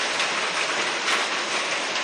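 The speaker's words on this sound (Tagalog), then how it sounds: "Oh, malakas ang ulan." Heavy rain pours steadily during a break from building a fence on a small backyard farm, a dense, constant hiss that stays loud and even throughout with no voices.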